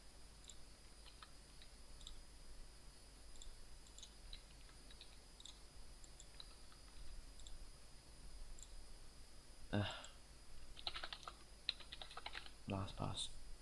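Soft, close keyboard clicks in irregular bursts as a password is typed on a computer, faint and quiet, with a few louder taps near the end.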